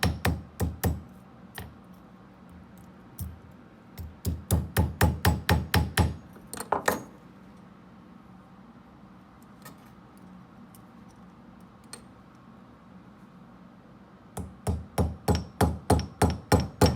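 A ball peen hammer taps down metal tabs to set an object, striking in quick rhythmic bursts of sharp, close, bright metallic hits, with a quiet gap in the middle before another fast run of taps.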